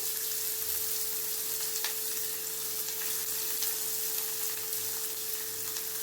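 Onions and green chilies sizzle steadily in hot oil for vegetable vermicelli upma, a continuous close frying crackle with a few soft stirring scrapes, no voices.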